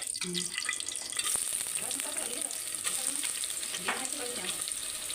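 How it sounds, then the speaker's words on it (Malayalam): Sliced onion sautéing in a pan with cloves and cardamom for a pressure cooker chicken biryani, giving a steady close sizzle with occasional stirring scrapes. "സവോളയും കൂടെ ഇട്ട് നന്നായിട്ടൊന്ന് വഴറ്റിയെടുക്കാം"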